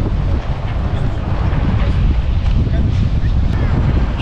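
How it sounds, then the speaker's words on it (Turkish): Strong wind blowing outdoors in St. Petersburg, a steady loud roar buffeting the microphone with low rumbling gusts throughout and no pauses. "Az önce güneş yakarken şu an bir anda böyle rüzgar çıktı."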